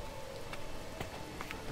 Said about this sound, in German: Ach, jetzt regnet schon wieder.